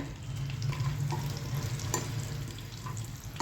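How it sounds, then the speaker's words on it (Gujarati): Cashews and almonds frying in ghee, a close, continuous sizzle with bubbling crackle and light stirring throughout, no voices. "તો સૌથી પહેલાં આપણે કાજુ અને બદામ બંનેને થોડા આમાં ઘીમાં તળી લેશું."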